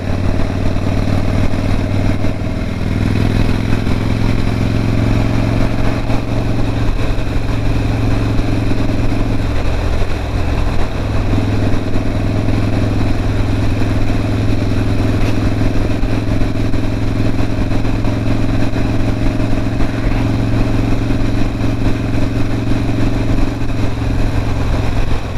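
A Harley motorcycle engine drones continuously while riding along a wet country road, giving a deep steady rumble with mild shifts in pitch and wind noise throughout and no talking.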